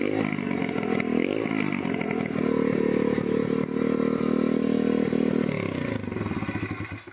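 A dirt bike engine runs close by at a fast, somewhat high idle, with a steady buzzing drone, a short rev and a clattery edge.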